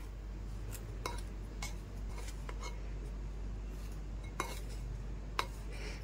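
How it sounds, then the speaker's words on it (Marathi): A spoon stirs a vegetable mixture with Kashmiri red chilli in a metal pan. Soft, occasional clinks and scrapes sound close and faint over a low steady hum. "आता त्याला मस्तपैकी सगळं हलवून घेऊ आपण"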